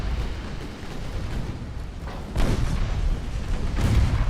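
Warships fire their naval guns in Ultimate Admiral: Dreadnoughts. Distant booming shots come in a few separate thuds over a steady low rumble.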